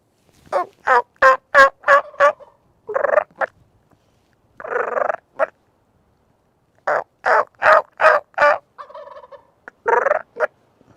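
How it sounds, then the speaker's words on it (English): Wild turkeys gobble repeatedly in the evening, loud and close, in several separate bursts of rapid rattling calls with pauses between, no talk over them. "When they gobble in the evening like this, they go along gobbling, trying to gather hens."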